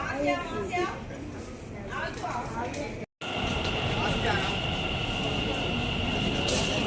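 An underwater metro train pulls into the station with a loud rumbling roar and a sustained metallic whine, preceded by people talking nearby before the train noise takes over.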